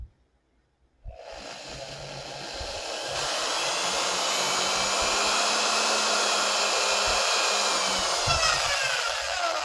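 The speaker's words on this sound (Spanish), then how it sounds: "Voy a hacer un agujero en esa posición para poder fijar nuestros elementos" A power drill bores a hole through a TV antenna boom, starting abruptly after a quiet moment and then whining steadily and loudly for several seconds, close up and with no talk.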